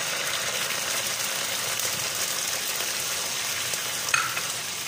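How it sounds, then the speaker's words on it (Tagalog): Sardines being sautéed in a pan with onion give off a loud, continuous sizzling hiss, with a brief scrape of a utensil near the end and no voices. "Igisa na natin yung ating sardinas."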